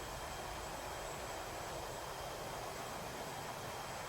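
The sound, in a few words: F-18 Hornet jets taking off, from video game DCS World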